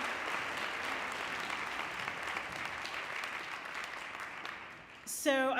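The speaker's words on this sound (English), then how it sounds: "let's give these students one more round of applause" A school audience applauds students at a career institute declaration day, a dense, even wash of clapping that fades near the end as a voice begins speaking.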